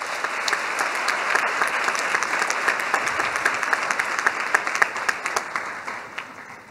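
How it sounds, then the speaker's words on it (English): An audience at a university welcome day bursts into sustained applause, dense clapping from a large crowd holding steady before thinning out near the end. "give yourselves a round of applause."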